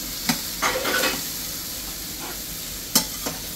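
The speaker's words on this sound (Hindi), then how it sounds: "बिटिया बना रही है और बर्तनों की आवाज़ आ रही है" Metal utensils and dishes are being washed in a home kitchen. A few sharp clinks and clatters ring out irregularly over a steady hiss of running water.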